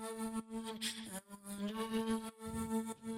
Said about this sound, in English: I also have this auto pan that's doing a tremolo effect on the song all the way throughout